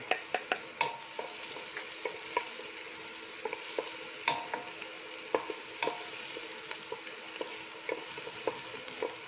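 Garlic sizzles in a pan alongside string beans, mushroom and tofu, a steady quiet frying hiss broken by frequent clicks of stirring and utensil taps, with no voices.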